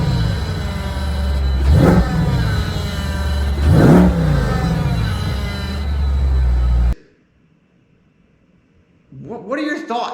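A 2022 Chevrolet Corvette C8 with a suspected drivetrain failure revving, its steady engine drone rising in two swells, then cutting to near silence before another burst, with people talking nearby.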